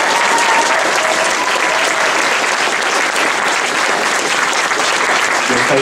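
A convention audience applauds its committee and volunteers during a closing ceremony: dense, loud, sustained clapping from a large crowd, continuous throughout with no talk over it.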